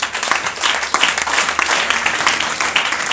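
A church congregation breaks into lively clapping, a dense, even patter of many hands filling the room for a few seconds.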